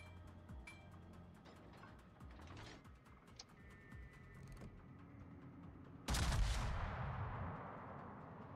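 Naval gunfire in World of Warships: one loud, close broadband blast rings out near the end and decays slowly, preceded by a quieter stretch of low mechanical rumble and faint distant thuds.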